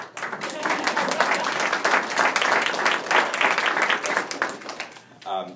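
Audience applause at a school board of education meeting, a steady, moderately loud patter of many hands that fades near the end as a voice begins.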